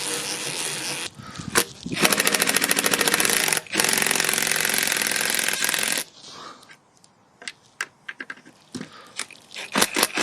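A power tool drives screws into a part on a 2003 Toyota Corolla, making a loud close buzzing burr for several seconds with a brief pause, followed by scattered clicks and taps.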